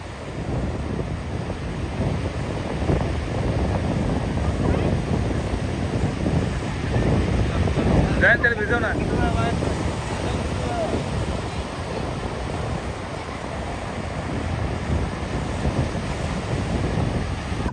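Sea waves wash up and draw back along a beach in a continuous broad roar of surf, with heavy wind buffeting the microphone throughout.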